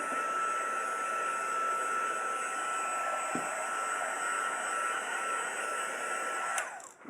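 Heat tool blasting to dry craft paint, a loud steady whirring roar with a whine running continuously before cutting off at the very end.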